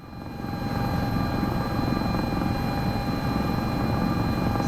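S76C helicopter in Microsoft Flight Simulator 2024, rotor and turbine drone with a steady whine, loud and close, continuous with no voices.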